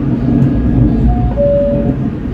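A passenger train rides through snowy Switzerland, heard from inside the carriage as a loud, steady low rumble, with a faint tonal whine rising briefly partway through.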